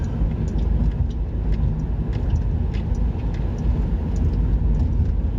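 Steady, loud road rumble from inside a car cruising on Highway 30, a continuous low drone of engine and tyre noise with no talking.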